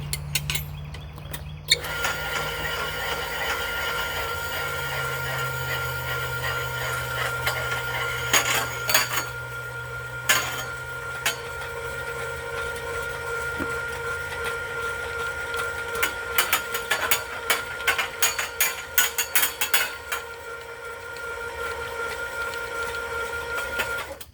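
A hand-cranked tubing roller bending metal tubing gives a mechanical whir, then bursts of metallic clicking and clanking as the crank turns, loudest toward the end, with no talk.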